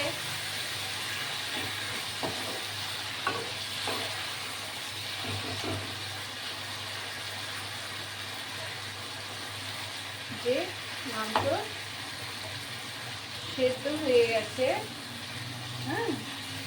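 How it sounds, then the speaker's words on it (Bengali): Garlic chicken sautés in a pan with a steady, soft sizzle and hiss. Stirring and scraping sounds become more active toward the end, while a person talks. "সলিড মাংস এবার আরেকবার কষিয়ে নিলাম"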